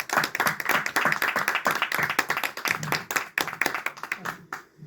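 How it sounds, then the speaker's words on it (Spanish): A small conference audience at a film festival programme launch in Buenos Aires claps for several seconds, individual hand claps distinctly audible in an irregular, lively rhythm that tapers off at the end, with some voices mixed in. "Un aplauso."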